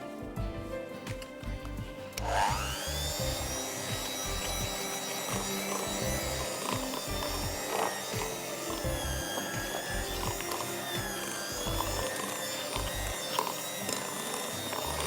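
Electric mixer beating cream cheese frosting with butter while icing sugar is added, a continuous motor whir with rattling beaters close by.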